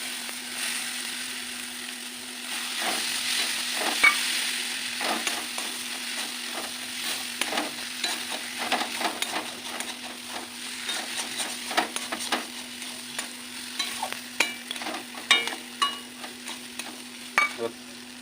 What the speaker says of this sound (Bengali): বন্ধুরা, এবার ডিমটা দিয়ে দেবো,